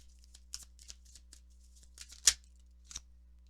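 Tarot cards shuffled and drawn during a reading, heard as soft, scattered papery flicks and slides with one sharper snap near the middle, faint and close, with no talking.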